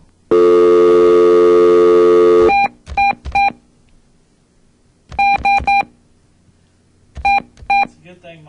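A phone keypad dialing, with one long steady tone followed by three clusters of short, sharp beeps separated by pauses, loud and close, with no voices over them.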